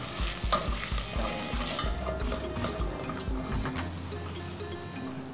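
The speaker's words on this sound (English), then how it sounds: "we're adding it to our meat, which is frying in the pan" Meat sizzles in a hot pan while a utensil scrapes and stirs it in quick repeated strokes, the frying hiss steady underneath.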